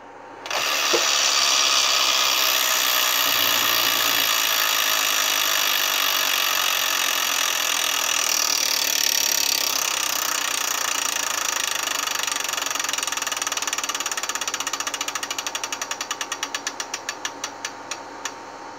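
The spinning wheel of an electronic Wheel of Fortune tabletop game clicks rapidly past its pegs, a dense ratcheting rattle that slows near the end into separate, spaced-out ticks before stopping.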